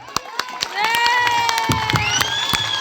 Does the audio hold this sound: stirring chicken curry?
no